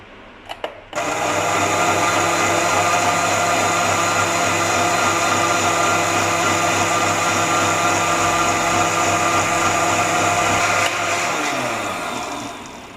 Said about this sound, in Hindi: इसको 2 से 3 मिनट के लिए ब्लेंड कर लेंगे अच्छी तरह।